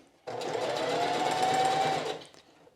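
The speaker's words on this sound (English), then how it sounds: "You can start and stop as you sew." A sewing machine stitches a straight seam through fabric in one steady whirring run of about two seconds, close and fairly loud, starting abruptly and winding down, with no talking.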